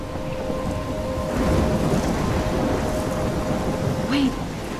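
A thunderstorm in the video game Life is Strange brings steady heavy rain and wind with a low, rumbling roar of thunder underneath, continuous and fairly loud throughout.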